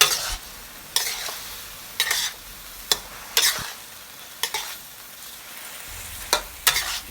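Lotus stems stir-fried in a pan with fish sauce and sugar: sharp spatula scrapes land about once a second over a steady, close sizzle, with no voices.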